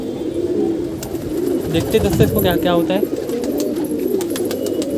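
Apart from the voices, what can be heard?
wild pigeon cooing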